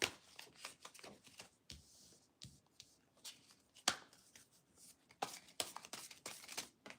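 Tarot cards being shuffled during a complicated reading, with repeated quick riffles and slaps in irregular bursts, close and fairly loud, no talking.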